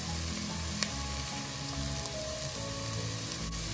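Green chillies sizzle steadily in a frying pan with garlic for a tomato curry, a continuous close crackle with a few faint clicks of stirring and no talk.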